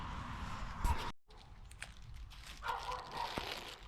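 A dog barks a few times nearby, sharp bursts with some shuffling and handling noise around them.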